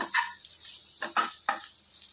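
Meal maker soya chunks frying in a pan, giving a constant hissing sizzle with a few louder bursts of stirring and sputtering scattered through.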